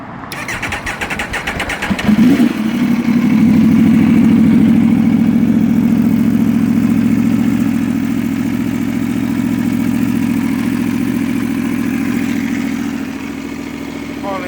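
A 2010 Aprilia RSV4 Factory motorcycle with a Leo Vinci exhaust cranks and catches, then settles into a loud, steady idle with a slight rise in revs, heard close up.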